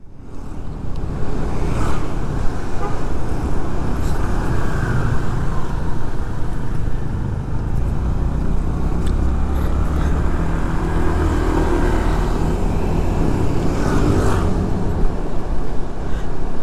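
Road traffic stuck in a jam on a route toward the beach, heard as a steady, loud engine and road rumble with constant low-end noise that never lets up.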